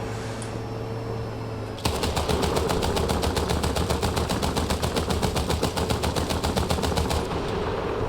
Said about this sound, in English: Has such weak machine guns